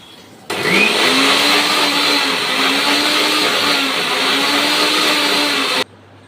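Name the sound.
mixer grinder crushing boiled ingredients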